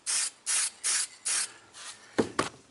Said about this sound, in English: Here's the foregrip, nice light coat of it there, and I'll do another one of those now.